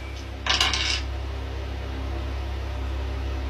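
Dice are thrown onto a hard surface at a card-and-dice game in a sitcom scene, making one brief, close clattering rattle that lasts about half a second before the room goes quiet.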